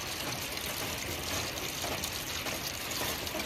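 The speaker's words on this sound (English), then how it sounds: "You can hear the water." Heavy rainwater rushes through a house downspout and drainage system during a downpour, a dense continuous hiss and gurgle, close and steady throughout.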